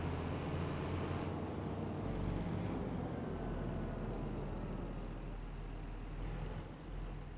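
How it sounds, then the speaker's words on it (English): A tractor engine in the Farming Simulator 25 video game runs as a steady, loud low rumble with a broad mechanical hiss, settling slightly lower near the end. "Let's start the engine."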